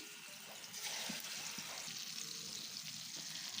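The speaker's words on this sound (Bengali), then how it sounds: "এখন আমি গরম তেলে মাছগুলো ছেড়ে দিলাম" Fish frying in hot oil in a pan on a wood-fired stove, a soft continuous sizzle with light splattery crackles, fairly quiet and without talk.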